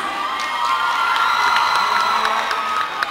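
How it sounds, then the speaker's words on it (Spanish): Concert crowd at a show in Dolores cheering and applauding, a loud, dense wall of shouts and clapping that stays sustained across the whole moment. "Anita, Maru Venancio, todo el equipo, un fuerte aplauso."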